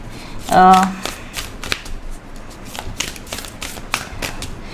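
Tarot cards are shuffled in a series of quick crisp riffles and flicks, close and fairly loud, with a brief tonal sound early on and someone talking throughout.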